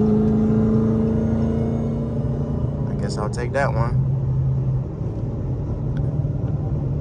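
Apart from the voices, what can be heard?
900HP Dodge Charger Hellcat driving on highway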